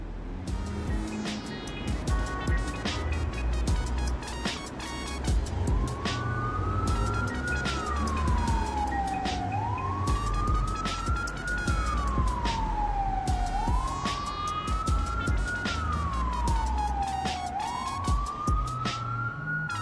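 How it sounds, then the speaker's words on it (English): A police siren wails up and down in long, repeating sweeps, steady and fairly close, over the hum of traffic. "the motorcycle quickly drew the attention of a police siren, cutting through the night"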